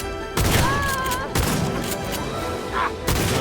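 Gunfire from a gun in Cyberpunk 2077, loud close bursts of several quick shots that come in three separate volleys over game background noise.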